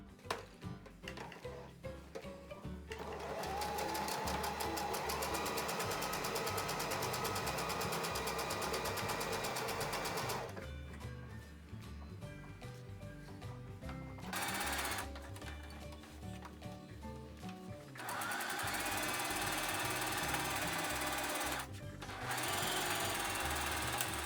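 A sewing machine stitches a tote bag in long, loud bursts of rapid needle strokes, stopping briefly between runs before starting up again close by.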